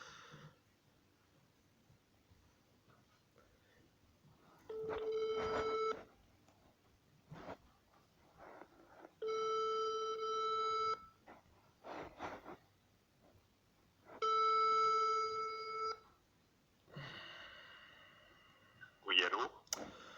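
A telephone call is placed, with soft dialing clicks followed by three evenly spaced, steady ringback tones, each lasting about a second, and quiet breathing and handling noises in between.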